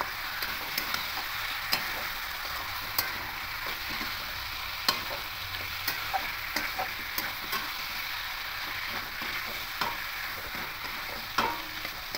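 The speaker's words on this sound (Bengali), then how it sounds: "আলু আর পটলগুলো দিয়ে দেবো। দিয়ে মশলার সঙ্গে খুব ভালো করে মিশিয়ে নেব।" Potatoes and pointed gourd frying with spices while being stirred, a continuous close sizzle punctuated by light periodic spoon knocks and scrapes against the pan, no speech.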